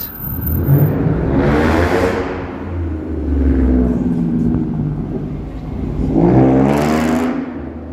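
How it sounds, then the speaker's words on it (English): Loud Ford Mustang engines roar past on a Toronto city street on a summer evening, two surges rising and fading within seconds with a steady rumbling drone between them. "It's another noisy Mustang. What's with all these Mustangs racing around with loud engines?"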